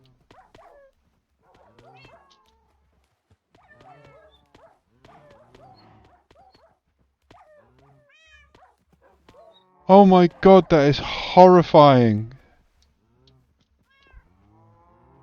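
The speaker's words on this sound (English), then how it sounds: "It's raining cats and dogs." Cats meowing and dogs barking in a video game erupt as a loud two-second cluster of harmonic yowling cries. Quiet, sparse talking comes before the burst.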